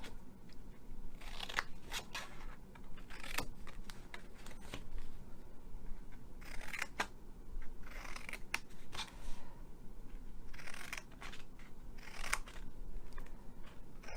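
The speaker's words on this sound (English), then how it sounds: "I started cutting all my flaps." Scissors cut paper flaps for a slider box card, making repeated crisp snips and crunchy paper sounds at close range, fairly quiet, with no talking.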